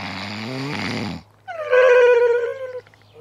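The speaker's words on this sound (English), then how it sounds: "The snoring is stopping me sleeping." Loud, close snoring from a sleeping character in a children's indoor play show, one long rasping breath followed after a short pause by a higher, wavering snore, with no talk over it.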